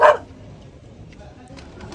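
A dog gives a single short bark close by at the very start, then background noise and faint sounds follow.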